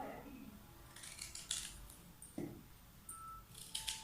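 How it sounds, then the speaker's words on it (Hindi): A knife cutting guava in a village kitchen, a few soft scattered slicing and crunching sounds, close and faint, with no talking. "तो यहाँ पर मैं काट लेती हूँ अमरूद"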